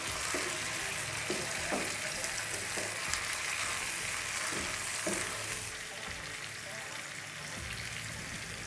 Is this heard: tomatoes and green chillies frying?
yes